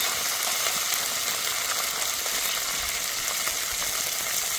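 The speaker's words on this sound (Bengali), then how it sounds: "এবার ভালো করে কষে নেব।" Ginger and green chilli paste with a little water, salt and turmeric sizzles in a pan as masala for katla fish in mustard-poppy sauce, a steady loud hiss throughout with no talking.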